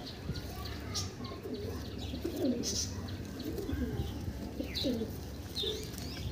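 An Andhra pigeon coos in soft repeated rolling phrases over a steady background hum, with occasional faint chirps and a voice talking nearby.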